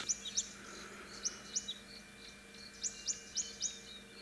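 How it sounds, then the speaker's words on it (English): Short, high chirping calls of European bee-eaters at sunrise repeat in loose pairs and singles, fairly faint and far off, over a steady background hum with no talking. "I hear some European bee-eaters, quite distant."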